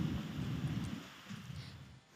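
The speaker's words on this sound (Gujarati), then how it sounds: "વીજળીના કડાકા ભડાકા સાથે અહીં ભારે વરસાદ ખાબક્યો" Faint, distant thunder rumbles low beneath a steady wash of heavy rain in a Saurashtra thunderstorm with strong wind, fading out toward the end.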